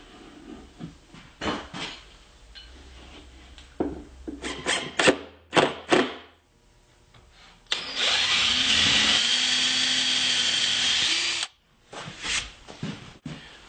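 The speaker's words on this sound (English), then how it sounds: "the next step is to pre-drill and countersink a few holes" A power drill whirs in several short bursts, pre-drilling and countersinking holes in a wooden cabinet box, then runs in one long, steady whine for several seconds before more brief drilling and wood clatter.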